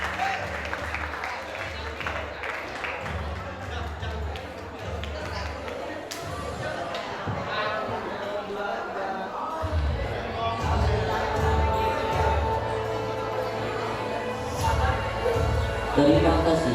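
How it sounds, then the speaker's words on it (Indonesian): An audience applauds a traditional Aceh Saman dance group at a school graduation and farewell ceremony. The clapping is a steady broadband wash that swells louder toward the end, with voices and low musical tones running underneath. "Berikan tepuk tangan yang meriah."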